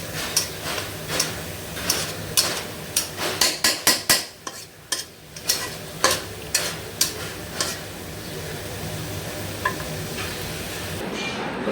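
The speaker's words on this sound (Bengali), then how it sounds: "আর এই যে একটু গিমা শাক রান্না করতেছি।" Gima greens are stirred and fried in a pan, with a steady sizzle under a run of sharp, irregular scrapes and clinks of a utensil against the pan, heard close and with no talking.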